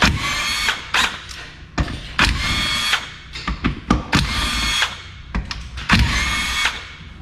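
A power tool runs in repeated loud bursts close by, with mechanical rattles and thunks in between, as it backs out 10 mm flange bolts on a 241 DLD transfer case during a rebuild.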